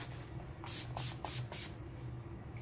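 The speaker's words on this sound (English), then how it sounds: "I can take our Time Setter spray, shake it" Four quick hissing sprays in a row from a makeup setting spray bottle, close by, with quieter handling noise before and after.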